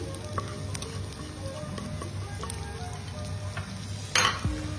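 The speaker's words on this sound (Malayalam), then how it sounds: "അല്പം വറ്റൽമുളകും വെളുത്തുള്ളിയും കൂടെ ചേർത്ത് നമുക്കൊന്ന് മൂപ്പിച്ചെടുക്കാം." Urad dal and grated coconut fry in hot coconut oil with a steady, soft, close sizzle. Near the end there is a brief louder scrape and clatter of stirring in the pan.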